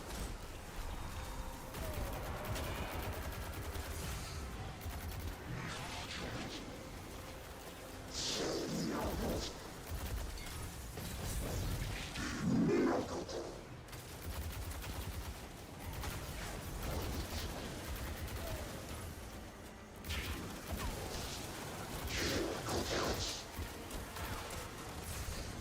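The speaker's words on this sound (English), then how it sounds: "you can hear the other people using hand cannons" Hand cannon gunshots from other players echo through a video game match, heavy booming reports arriving in irregular bursts over a dense, continuous bed of game noise, with no voices.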